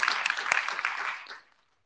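A small remote audience at an IETF 118 MASQUE meeting gives a short round of applause for Dennis, a brief patter of claps that fades out quickly.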